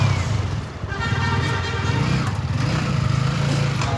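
Motorbike engine idling and revving close by, a steady low throbbing drone with a rough rattle over the full four seconds, briefly dipping near the start before holding loud and even.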